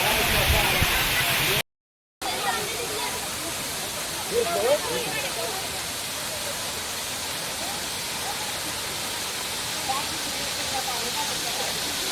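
Continuous rushing water noise of a waterfall pouring onto a road nearby at Gagan Bavda hill station, Maharashtra, steady hiss throughout with a brief dropout and faint voices underneath.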